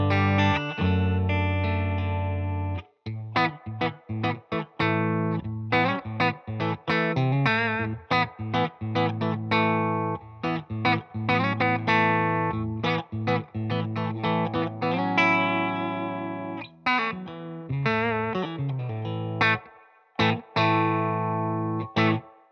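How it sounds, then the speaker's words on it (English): Electric guitar played through a Paul Cochran Timmy V3 overdrive pedal, giving mildly distorted strummed chords and picked riffs that ring loud and close for over twenty seconds with short pauses. "I kicked on a Paul Cochran Timmy V3, get a little bit of the kind of dirt noises on this thing"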